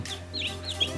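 Newly hatched chicks in a container, just out of an incubator, give high thin peeps and chirps in short bursts over a steady low hum, close by, with no talking.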